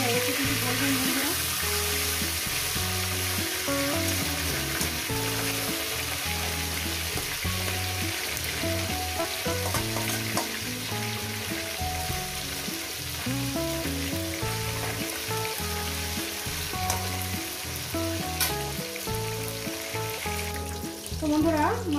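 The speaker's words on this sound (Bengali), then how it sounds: "এক সাইডটা ভাজা হয়ে গেছে, অপর সাইডটা উঠিয়ে দেবো।" A fish head fries in hot oil for a Bengali cabbage chorchori, giving a steady, close sizzle that runs throughout under rhythmic background music.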